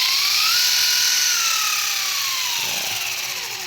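An electric motor on a Losi Pro Moto MX RC motorcycle with a metal chain whines loudly under throttle, its pitch rising and then sliding slowly down as it runs steadily for the whole stretch.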